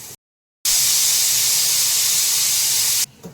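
Dried red lavingiya chilies hitting hot oil burst into a loud, steady sizzle that holds for a few seconds, then cuts off abruptly, with no voices over it.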